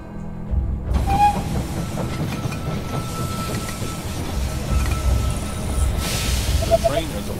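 A train in the strategy game They Are Billions pulling into a station, with continuous rumbling rail clatter and rolling wheel noise, brief squeals and clanks, fairly loud and steady after a short quieter start.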